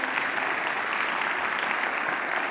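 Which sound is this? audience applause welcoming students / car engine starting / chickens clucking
audience applause welcoming students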